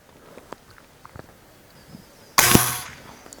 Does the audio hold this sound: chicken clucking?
no